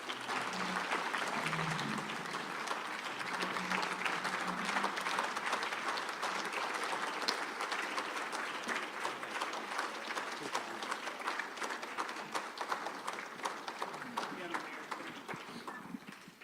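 An audience at a trial lawyers' award ceremony claps steadily for an honoree, a dense, sustained patter of applause from a roomful of people, fairly close and even throughout.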